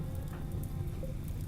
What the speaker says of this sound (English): Oh, it's raining! Oh my god, that rain is absolutely clutch.